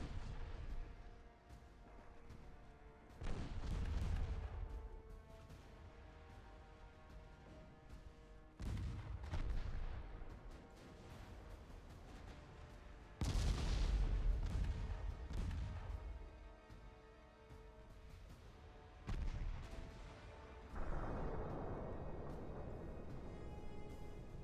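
Naval artillery fire in Ultimate Admiral Dreadnoughts, battleship guns at sea: several heavy booming salvos every few seconds, each with a rolling tail, over a constant low rumble of battle ambience.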